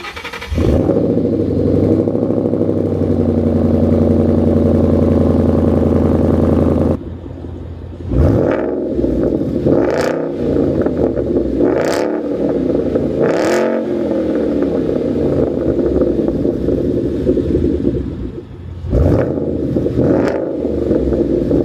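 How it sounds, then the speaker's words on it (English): A loud Ford Coyote 5.0 V8 engine in a Mustang with an aftermarket exhaust idles with a deep rumble, then revs sharply several times in a row, each rev climbing and falling back, very close. "you guys just heard me do a couple revs in the car"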